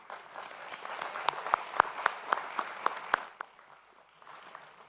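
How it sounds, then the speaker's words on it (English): Applause for a graduating high school class at a 2021 graduation ceremony: steady crowd clapping with sharp individual claps standing out, fading out after about three seconds. "can we give a round of applause"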